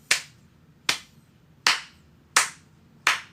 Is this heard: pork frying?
no